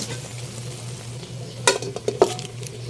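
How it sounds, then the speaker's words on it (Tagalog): Soft sizzling of chicken neck and head pieces frying in a pan, with a few sharp clinks of a utensil against the pan partway through. "Piniprito na po."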